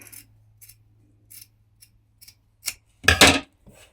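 Sharp scissors snip and trim fabric along a stitched seam of a sleeveless dress, several short crisp cuts at close range ending in a louder burst of snipping, with no talking.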